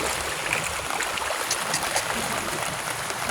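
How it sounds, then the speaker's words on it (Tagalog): Typhoon floodwater rushes down a street in Bacoor like a river, a loud, continuous broadband roar of flowing water with scattered splashes and no pauses. "Umaagos yung tubig baha rito."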